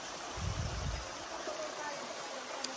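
Waterfall at Cregagh Glen, Lisnabreeny, a soft, steady rush of flowing water heard at moderate distance, with a brief low rumble near the start.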